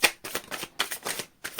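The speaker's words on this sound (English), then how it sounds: "Last shuffle." Tarot cards are shuffled in several quick riffling bursts, close and crisp, with short pauses between them.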